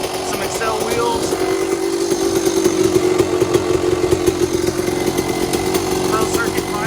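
A street-legal Husqvarna WR250 two-stroke dirt bike with a Pro Circuit pipe and 300 top end idles and runs steadily, a raspy buzzing drone up close with slight rhythmic throttle pulses and a voice talking over it.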